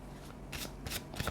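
Tarot cards being shuffled by hand, a quick series of papery riffling bursts close to the microphone with no talking.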